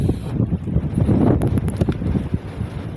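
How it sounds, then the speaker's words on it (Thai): Wind gusting along a river, a steady rushing roar with soft low buffeting close to the microphone, rising slightly in the middle and holding throughout with no voices. "ลมพัดเย็นขนาดพี่น้องลมพัดเสียงลมพัดดังวูวู"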